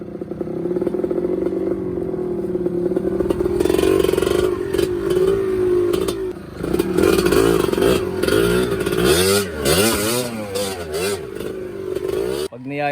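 Enduro trail motorcycle climbing a steep uphill trail, its engine revving and labouring with rising and falling pitch throughout, close and loud, while people shout encouragement over it.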